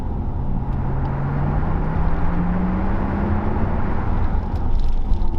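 A Porsche Taycan Cross Turismo electric car on the move, a steady road and tyre rumble with a faint rising electric whine, no talk.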